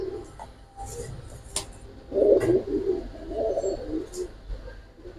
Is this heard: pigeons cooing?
yes